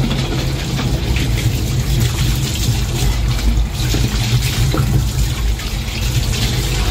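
Water sprayer rinsing during a car wash gives a steady, loud hiss of spraying water with a low rumble underneath, constant throughout with no pauses.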